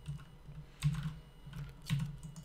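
Keys clatter on a computer keyboard while an email address is entered into a web admin password-reset form, arriving in two close bursts of quick taps with a low hum beneath.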